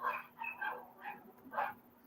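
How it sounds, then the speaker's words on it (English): Several dogs bark in short bursts, roughly five separate barks spread irregularly over two seconds, moderately near and fairly loud, with no talking over them. "Why are these fucking dogs barking?"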